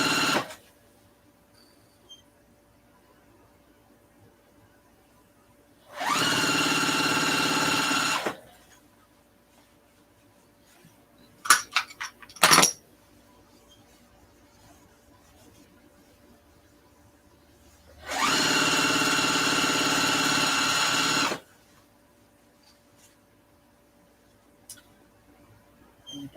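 A sewing machine stitches the side seam of a large reusable grocery tote bag in two loud, steady bursts of about two seconds each, separated by quiet handling clicks.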